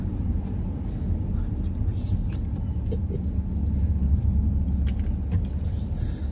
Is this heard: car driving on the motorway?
yes